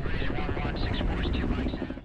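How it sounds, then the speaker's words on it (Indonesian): A helicopter carrying troops in a film scene thrums with a steady low rotor rumble, while voices speak over it throughout. "Helikopter yang membawa pasukan akhirnya terbang."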